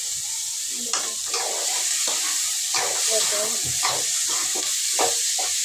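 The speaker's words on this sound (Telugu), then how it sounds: "అలాగే ఉప్పు కారం అన్నీ వేసేసి బాగా కలిపేసి సిమ్లో ఒక పది నిమిషాలు మగ్గించుకున్నామంటే బీన్స్ కర్రీ కూడా రెడీ అయిపోతుంది" Boiled beans curry with salt and chili sizzles in a pan while being stirred, with irregular scraping and clattering strokes cutting through a steady close hiss of frying.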